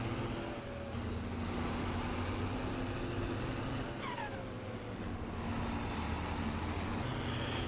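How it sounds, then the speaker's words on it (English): A heavy tractor engine drones steadily throughout in Farming Simulator 22, and midway the turbocharger blow-off valve whistles and hisses as pressure is released. "it's the sound of that blow-off valve, that turbocharger"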